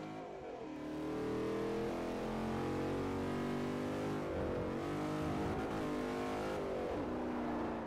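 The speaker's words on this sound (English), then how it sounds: "Ooh, big drift." Dodge Challenger drifting in the video game Forza 4, a steady loud engine roar that wavers and surges as the throttle changes through the slide, with no talk heard.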